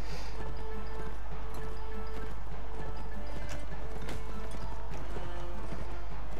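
Horse hooves clopping and galloping during a lance tournament in the Mount and Blade Warband game, with repeated hoofbeats over a constant low hum and an occasional whinny, no talk.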